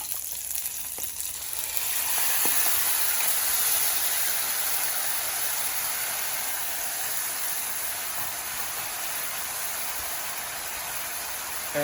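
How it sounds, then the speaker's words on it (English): Honey garlic sauce sizzling with salmon in a hot pan, a steady hissing fry that swells after the first couple of seconds and then holds evenly, with no talking. "And we're going to let this cook until a third of the sauce is reduced."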